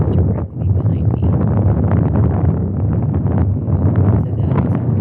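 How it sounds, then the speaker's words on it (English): Strong wind blasts the microphone at a San Diego harbor viewpoint facing the downtown skyline, a loud, constant low roar with a brief lull near the start and no speech. "It is windy"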